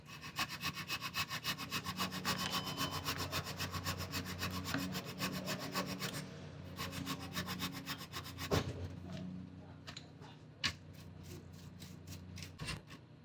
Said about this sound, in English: So we're going to file some more.